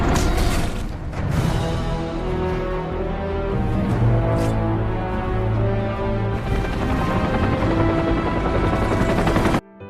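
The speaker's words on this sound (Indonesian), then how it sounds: "datanglah sebuah helikopter yang menjemput kelompok Villain" A helicopter arrives to pick up the villains in the action film The Expendables 2, its loud rotor thrum running steadily throughout, mixed with a dense, busy film soundtrack of gunfire, crashes and music.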